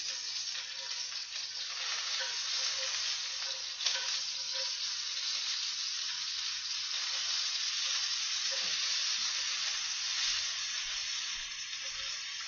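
Vegetables with red onion frying in a skillet make a steady close sizzle, with occasional soft scrapes and clicks as tongs turn them; no talk.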